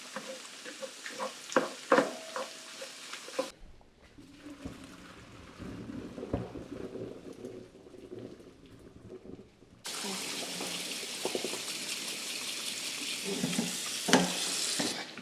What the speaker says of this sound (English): our sausage that I'm gonna saute with these onions to kind of bulk it up a little bit